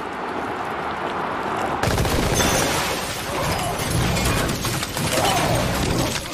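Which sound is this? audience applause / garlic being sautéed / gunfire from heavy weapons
gunfire from heavy weapons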